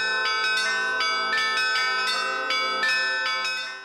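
Festive church bells ring out in a rapid, overlapping peal, bright metallic strikes repeating steadily with long shimmering tails, clear and fairly close with no voices.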